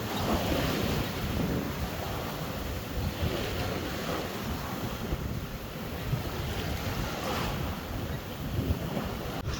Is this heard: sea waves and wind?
yes